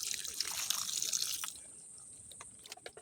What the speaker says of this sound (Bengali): দেখো জলগুলো কীভাবে বেরোচ্ছে, মানে ড্রেনেজ সিস্টেমটা ঠিকঠাক রয়েছে।